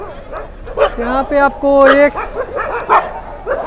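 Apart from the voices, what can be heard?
dogs barking at temple courtyard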